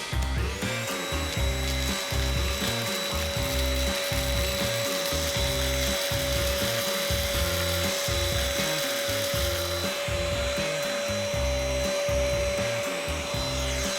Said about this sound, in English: We lined up 200 Cheerios to see how many the vacuum could suck up and how quickly it could